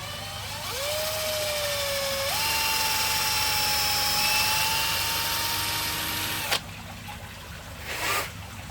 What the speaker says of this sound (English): we just reverse drill a hole there